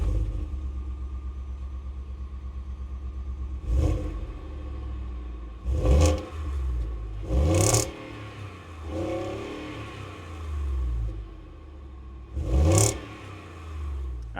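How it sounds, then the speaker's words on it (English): Full-size truck with a heavily muffled Gen 3 Coyote V8 idling with a low rumble, then revved in several short bursts, each rising and falling back, heard close at the exhaust. "this exhaust pipe over here makes some noise"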